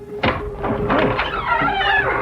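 An old door in a ramshackle house creaks open as a radio play effect, a long groaning, squealing creak that rises and wavers for about two seconds, close and fairly loud.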